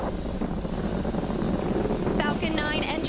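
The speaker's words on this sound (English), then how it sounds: "Falcon 9 engines throttling down to help pass through the period of maximum dynamic pressure" A SpaceX Falcon 9 rocket at Kennedy Space Center roars during launch as its first-stage engines throttle down, a distant, continuous rumbling roar mixed with wind buffeting, and a voice briefly cuts in near the end.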